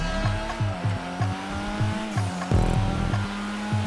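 A Karin Futo GTX driving on a track in GTA Online, its engine droning close and loud with a regular pulsing rhythm, tires squealing, and a sharp thump partway through.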